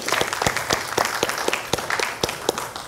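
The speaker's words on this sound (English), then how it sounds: "Applause, please." A small audience at a conference plenary session claps in a sparse, fairly regular rhythm, each clap distinct and echoing slightly in the hall, moderately loud with no talk over it.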